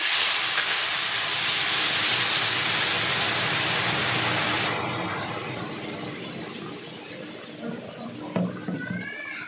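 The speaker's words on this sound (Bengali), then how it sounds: "এখন দিয়ে দিব জল" Water poured into a hot pan of taro that has been sautéed for 10 to 15 minutes, for kochur daal: a loud sizzling hiss that drops to a quieter simmer halfway through, with small clinks near the end.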